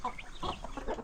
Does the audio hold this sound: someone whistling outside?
no